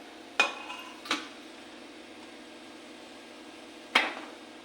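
A metal lid comes off a cooking pot with three sharp clanks: two close together, a pause, then a third, each ringing briefly above low kitchen background hiss.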